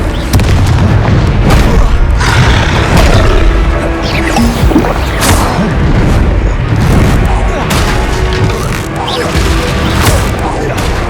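Confringo blasting spells exploding repeatedly in the Hogwarts Legacy video game, loud booming blasts and crashes arriving in quick succession amid combat noise, with a character's voice shouting over them.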